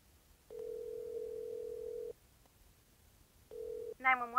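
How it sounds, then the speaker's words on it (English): A steady, even telephone dial tone sounds in the VR game Sisters: Faye & Elsa. It holds for about a second and a half, cuts out, returns briefly, then a voice starts speaking over the line. "I've never been so happy to hear a dial tone in my life."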